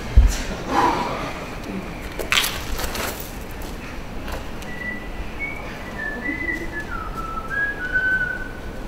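A person whistles a wandering tune while strolling past outdoors, the thin melodic notes fairly faint against steady background noise, with a few brief thumps early on.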